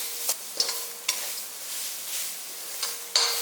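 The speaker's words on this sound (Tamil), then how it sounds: "எடுத்துகிட்டு இதையும் போட்டு எல்லாம் ஒன்றா வதக்கிடலாம்." Garlic and grated coconut are sautéed in a pan for vathal kuzhambu, with a soft, quiet sizzle and several sharp clicks and scrapes of a spatula against the pan.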